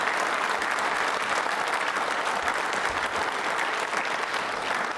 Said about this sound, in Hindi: उनके सम्मान में श्रद्धा के रूप में तालियां जोरों से बजाइए आप।